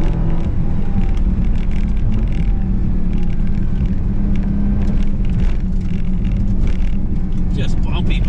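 Race car driving hard around a track during a driving experience event, its engine a steady loud rumble throughout, with a bumpy ride and people talking over the noise inside the car.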